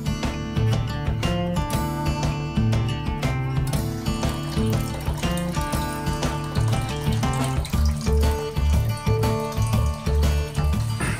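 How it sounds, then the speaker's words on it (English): Water drains in a steady, loud, continuous rush from a cabin water heater being emptied for winter at an off-grid cabin by a lake, with no talking over it. "we're emptying out any water that's still in the water heater so that that doesn't freeze"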